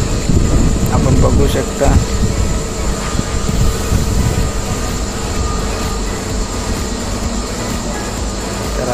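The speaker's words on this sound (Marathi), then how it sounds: "हे इंडिगो एअरलाइन्सचे विमान आता लँडिंग करत आहे" An IndiGo Airlines plane landing at Mumbai's Chhatrapati Shivaji Maharaj International Airport, heard from a nearby hill as a loud, continuous broadband roar of jet engines, with a person speaking over it.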